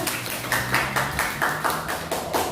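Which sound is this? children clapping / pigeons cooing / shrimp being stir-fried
children clapping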